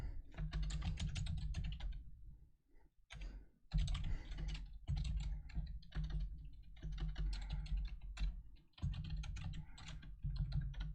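Rapid typing on a computer keyboard, a close, steady stream of clicking keystrokes with a couple of brief pauses, alone without speech.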